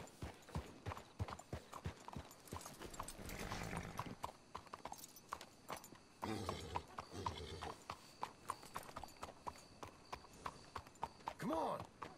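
Horse hooves clop in a steady walking rhythm in Red Dead Redemption 2, close and clear, with a brief whinny near the end and characters talking in between.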